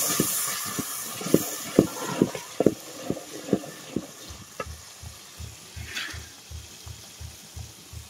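Pointed gourd frying in spiced masala for a fish curry, a soft steady sizzle under a brisk, regular rhythm of spoon scrapes against the pan, close and moderately loud.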